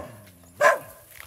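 A single dog lets out one short bark near the middle, fairly close, against a quiet outdoor background during the rainy season.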